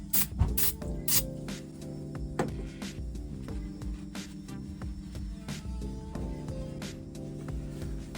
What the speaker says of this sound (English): I'm gonna spray it with some carb clean and get it looking nice and new